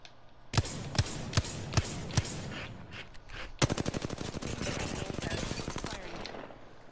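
Gunfire in a battle royale video game: five evenly spaced single shots, then a sustained rapid automatic burst lasting several seconds, fairly loud and up close with game effects behind.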